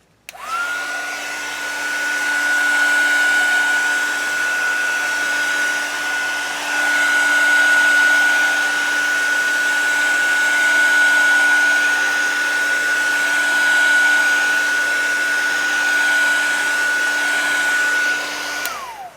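A hair dryer blows steadily on a collage journal page, a loud continuous whirring drone with a high whine that runs nearly unbroken for the whole stretch, with no talking.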